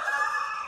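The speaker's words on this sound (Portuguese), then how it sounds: "Galo, cala a boca" A rooster crows nearby: a short, loud, steady-pitched strained call cut off partway, with no talking over it.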